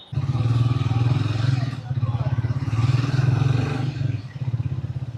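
A 2025 Triumph Speed T4 motorcycle being ridden, its engine producing a steady pulsing thrum that rises and falls with throttle, heard close and continuous with brief dips between gear changes.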